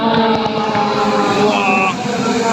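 Race cars on the Bugatti circuit at Le Mans, a steady loud engine drone with a rising whine as a car passes close by, steady throughout with people talking nearby.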